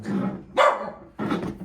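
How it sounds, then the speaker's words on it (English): A dog barks twice in a quiet indoor room, two close, sharp woofs separated by a short pause, with a voice speaking briefly alongside. "Oh, sorry about that dog."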